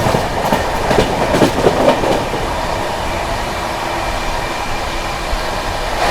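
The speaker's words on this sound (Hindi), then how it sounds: "अपनी महाराष्ट्र संपर्क क्रांति ओवरटेक करने जा रही है विरार सूरत इंटरसिटी एक्सप्रेस को" Steady, loud rolling rumble of the Maharashtra Sampark Kranti Express passing the Virar Surat Intercity Express, with light rhythmic rail clatter and no voices.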